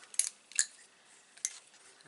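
Scissors snipping paper card while making 4x4 note cards and a pouch, three short crisp cuts, close and fairly quiet, with no talking.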